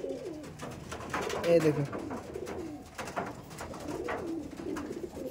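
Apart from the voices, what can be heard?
Madrasi pigeons cooing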